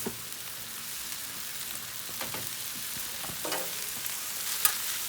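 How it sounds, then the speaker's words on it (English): Rice noodles sizzle in oil on a Blackstone griddle, a steady close frying hiss throughout with occasional scraping and clinks of a utensil. "A little bit more oil. Throw my rice noodles down."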